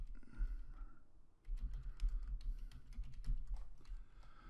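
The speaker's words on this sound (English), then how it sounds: "I'm actually typing right here, right now." Quick, irregular clicks of typing on a computer keyboard, close and fairly quiet over a low hum, with a short pause before the keystrokes resume.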